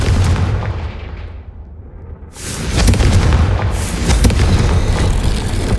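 A Confringo spell detonates in Hogwarts Legacy, a loud booming blast that swells after a brief lull, followed by sustained rumbling crackle near the listener.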